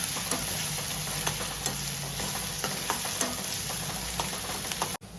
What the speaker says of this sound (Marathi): कांदा मस्त असा लाल होईपर्यंत आपण परतवून घ्यायचा